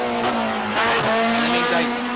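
Race cars in a Group SL-S specials event at the Katukurunda circuit in 2018, heard as a loud, continuous engine drone with a steady whining tone that shifts slightly in pitch.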